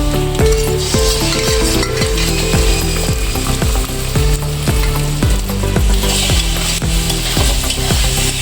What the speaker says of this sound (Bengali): ডিমটা আমি ভালো করে শুকনো করে ভেজে নেবো।